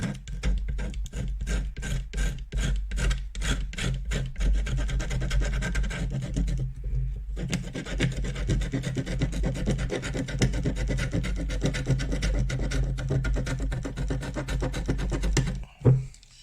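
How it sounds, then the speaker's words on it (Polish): A utility knife scrapes old glue residue off a loudspeaker's frame and cone, giving rapid rhythmic rasping strokes at first, then a steadier continuous scratching close by, with no talk. "Ja to zeskrobuję zwykłym nożem tapeciokiem."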